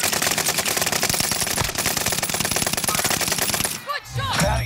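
Rapid automatic gunfire rattles in a fast, continuous burst from a team shooter video game, loud and close. A brief pause near the end gives way to a few softer sounds.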